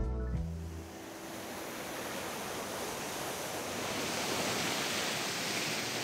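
A mountain waterfall in Japan, used for Yamabushi ascetic practice, roars as a dense, continuous wash of broadband noise, steady and close.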